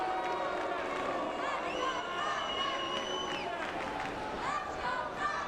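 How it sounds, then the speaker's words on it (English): Spectator crowd at Rio 2016 Paralympic judo, a continuous murmur with cheering and individual shouted calls rising above it, steady and moderately loud throughout. "I can hear Ewan Burton in the crowd shouting 2 hands on, keep 2 hands on all the time"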